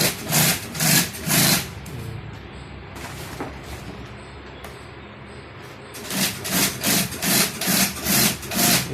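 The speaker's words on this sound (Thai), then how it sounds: "เย็บเส้นนี้ก็น่าจะเสร็จแล้วครับ" A sewing machine stitches heavy awning canvas in rhythmic, evenly pulsing bursts at the start and again at the end, with a quieter rustling pause in between.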